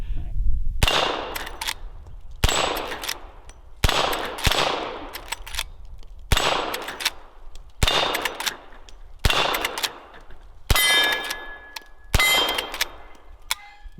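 Lever-action rifle shots at a range: nine loud, sharp reports spaced about one and a half seconds apart, each ringing out and decaying before the next, with no talking.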